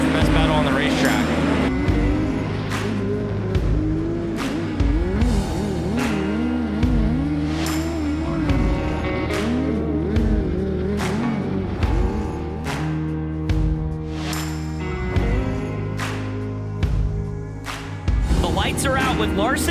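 Dirt track midget race cars at the Chili Bowl Nationals, engines droning and revving continuously under steady excited commentary, with a dense layered motor hum throughout.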